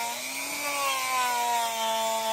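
An electric polisher runs steadily at speed level 3, producing a close, continuous high motor whine with a slight rise and dip in pitch, alone with no talk.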